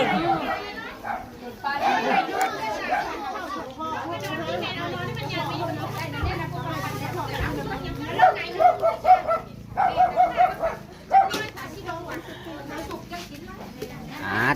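Dogs bark repeatedly in short bursts amid lively crowd chatter and talking at a village wedding gathering, the barks loudest toward the middle and end.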